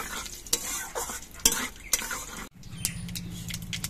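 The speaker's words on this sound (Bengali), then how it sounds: "সর্ষেটা ভাজা হওয়ার সময় দেখবেন পটপট করে ফুটবে" Mustard seeds fry in hot oil for dal tempering, giving scattered sharp pops and crackles over a soft sizzle with stirring scrapes, then a steadier low hiss after a brief dip.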